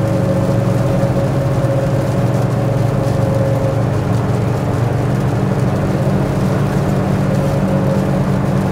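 A car engine with 14-inch tires accelerates steadily in fourth gear at full throttle, a loud continuous drone with a steady tonal hum held close throughout, no talking.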